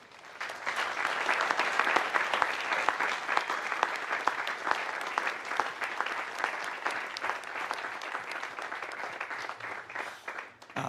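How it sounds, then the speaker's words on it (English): An outdoor audience at a drone show event gives a long round of applause for a library team, dense clapping swelling early then holding steady and fading near the end, with scattered sharper claps standing out. "let's give a huge round of applause to the Theodore Roosevelt Library team"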